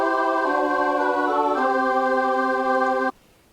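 Landino clausula cadence played as a short musical example: sustained harmonic chord tones whose voices step to new pitches twice before the final chord, ending abruptly, with no talking.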